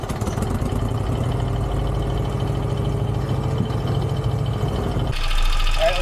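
Off-road go kart fitted with a 16hp V-twin engine running in a driveway, a loud rhythmic chugging idle that holds steady, then a sudden shift to a rougher, revving engine note near the end.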